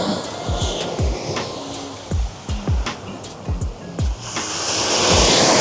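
Strong ocean surf rolls and churns, with a series of low thumping pulses and a rising wash of roaring water toward the end.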